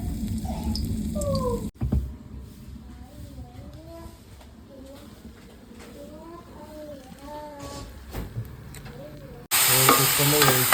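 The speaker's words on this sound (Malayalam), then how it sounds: "ഇവിടെ നമ്മുടെ വിറകടുപ്പിലാട്ടോ ചിക്കൻ പൊരിക്കാൻ വെച്ചിട്ടുണ്ട്." Chicken fries on a wood-fired stove with a steady crackling sizzle, interrupted by a brief cut. Bird chirps sound faintly in the background, and the frying bursts louder near the end.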